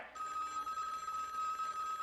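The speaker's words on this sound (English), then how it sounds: "Nope, that's the phone." A telephone rings with a steady, continuous electronic tone that starts abruptly and holds at a moderate level throughout.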